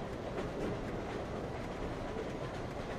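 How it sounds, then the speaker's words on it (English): A train carriage rolls steadily along the track, a continuous low rumble with faint rhythmic rattling, even and unbroken throughout with no voices. "The train is taking you along for the ride"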